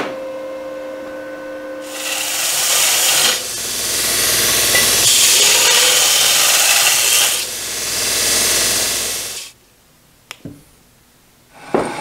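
A 6-inch CBN grinding wheel grinds high speed steel in long, loud rasping passes, a steady harsh hiss swelling and easing with each stroke, then stopping into near quiet with a few clicks.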